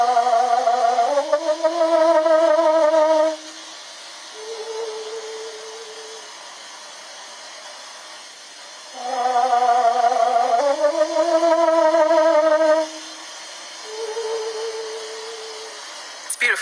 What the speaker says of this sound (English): That is the sound of a bird, slowed down to a pace that the human ear mistakenly recognizes as its own.